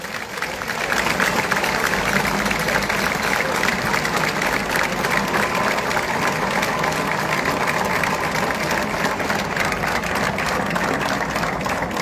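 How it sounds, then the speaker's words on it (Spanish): Sustained crowd applause at a street parade in Santander, Cantabria, a dense steady clatter of clapping lasting several seconds outdoors with a faint engine hum beneath. "Un aplauso muy grande para el más grande de Cantabria, Benito Díaz, el Sarruján de Carmona."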